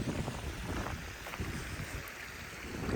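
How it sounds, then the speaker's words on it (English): A cold easterly wind gusts through a garden in winter, a steady rushing, buffeting roar that swells and eases across the moment, with no voices. "You might be able to hear now, the wind just seems to have picked up a little bit."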